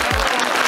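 An awards ceremony audience at a gourmand food event in Sweden applauds, with a brief, dense burst of clapping filling the room at steady loudness.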